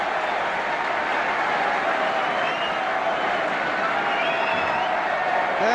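Arsenal supporters at the 1971 FA Cup Final against Liverpool fill the stadium with a continuous, dense roar of cheering and applause, steady and broad, heard from a distance.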